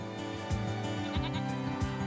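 Goats on a farm, set to work clearing overgrown paddocks, bleat repeatedly in a series of wavering, nasal calls that overlap, with no talking.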